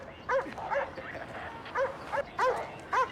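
A puppy barks and yips in short, fairly close bursts, with soft whimpering between them over a low background hum.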